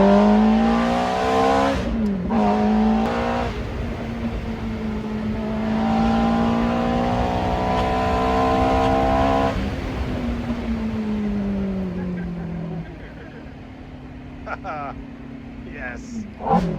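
A Ferrari F430 engine roars close and loud under hard acceleration, its pitch climbing and falling through several revving sweeps, with people talking over the noise.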